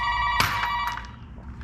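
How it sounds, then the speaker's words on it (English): A telephone ringtone sounds in an auto repair garage, one short loud electronic ring that fades quickly, with nobody talking. "Oh, phone's ringing again."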